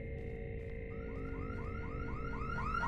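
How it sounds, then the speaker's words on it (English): A wailing alarm keeps sounding in the indie horror video game The Inn-Sanity, a repeated rising electronic siren sweep that grows slightly louder over a steady droning background with no talking. "And the alarms are going off already."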